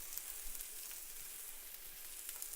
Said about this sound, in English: which are just a shot of sesame oil, about a teaspoon